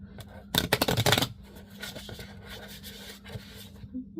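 A deck of tarot and oracle cards is riffled and shuffled in a dense burst of crisp flutters for about half a second, followed by softer card rubbing and sliding, close and fairly quiet, with no talking.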